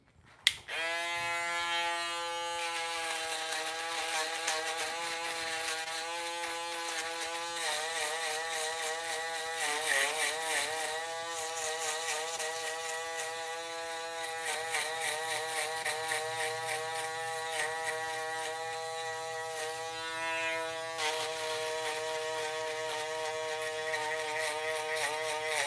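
Close-up electric foil shaver working over short hair during a self-administered buzz cut taper fade, a continuous buzzing hum whose pitch wavers and dips as the head presses against the scalp, running alone throughout.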